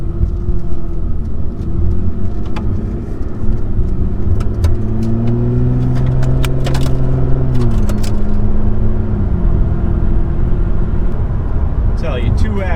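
An Aston Martin with an automatic transmission drives in wet weather, its mid-range engine droning steadily and rising in pitch as it accelerates and shifts, up close inside the cabin, with a voice speaking over it.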